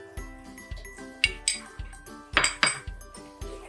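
A spoon stirring egg biryani masala in a pot, sharp metallic clinks and scrapes recurring every half second or so, close and fairly loud with no talk.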